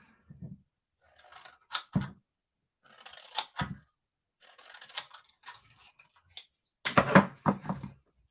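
Big crafting scissors cut through paper for a stamped floral card, producing several separate crisp snips and crunchy cuts spaced by short pauses, close up and alone.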